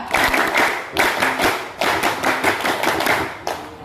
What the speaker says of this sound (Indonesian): Nah, kencang lagi. Tepuk pramuka.